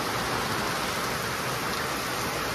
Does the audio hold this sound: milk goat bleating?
no